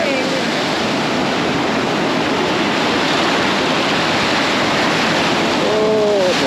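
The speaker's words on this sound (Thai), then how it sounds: "โอ้ทะเล" Sea waves on a white sand beach at Destin give a loud, continuous broadband roar of surf mixed with wind buffeting the microphone, with no clear break throughout.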